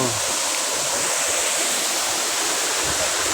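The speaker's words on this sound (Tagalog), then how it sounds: "nandito na kami sa RRB Falls, Baybayatin" Water pours continuously at RRB Falls in Baybayatin, a loud, close, dense roaring rush of cascading water that fills the whole moment without pause.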